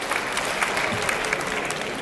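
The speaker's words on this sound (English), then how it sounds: "Now give yourselves a round of applause for being grateful and participating in today's activities" At an annual luncheon, a seated audience gives a brief, full round of applause, dense and steady clapping with a crowd murmur underneath.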